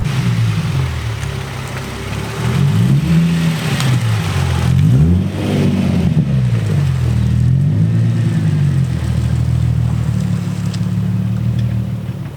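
A car with a newly installed outer tie rod, its engine revving up and down in repeated swells as it drives off on a test drive, loud and close, with no talk.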